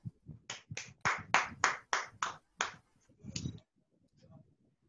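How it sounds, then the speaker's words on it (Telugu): A small group claps hands together at a pop-up book workshop, producing about eight sharp, fairly close claps in a steady rhythm before trailing off into a few scattered quieter sounds. "హల్లెలూయా చప్పట్లు కొడదాం అందరం కూడా"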